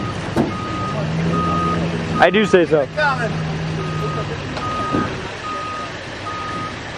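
A truck's reversing alarm beeps in a steady, evenly spaced rhythm while backing a race car trailer at a demolition derby night, with the engine humming beneath and someone briefly talking in the middle.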